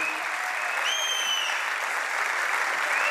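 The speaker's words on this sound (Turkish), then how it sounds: "alkışlarla sahnemize davet ediyorum efendim" An audience at a Turkish folk music concert applauds as guests are invited onto the stage. The clapping is dense and steady throughout, with a faint whistle near the start.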